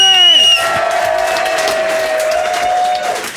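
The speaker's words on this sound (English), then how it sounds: "And a huge cheer for our superstar, Mr. John Smit." A live studio audience roars with cheering, whoops and applause for rugby star John Smit, a dense, loud crowd swell that holds steady before tapering off at the end.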